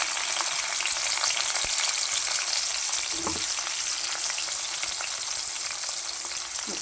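Mustard seeds, fennel and onion frying in hot oil for a karunai kilangu gravy, a dense, even crackling sizzle that runs steadily throughout, close and without talk, with a faint brief clink partway through.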